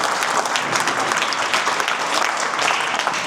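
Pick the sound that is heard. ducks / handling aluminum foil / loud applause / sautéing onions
loud applause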